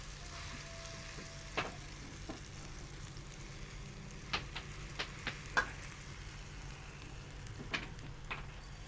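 A vegetable breakfast pancake fries in a pan over a low to medium flame, giving a quiet steady sizzle with occasional soft pops and ticks, and no one speaks.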